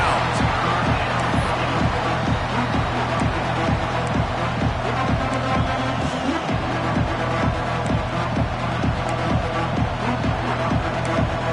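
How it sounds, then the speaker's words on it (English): Steady, loud crowd roar fills a large college football stadium at Happy Valley on third down, with a regular thumping beat running underneath throughout. "The noise from this big crowd in Happy Valley on third down"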